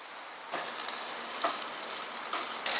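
Vegan ground with taco seasoning sizzles in a pan, a steady bright frying hiss that jumps louder after a quiet start and swells in brief surges as it is stirred.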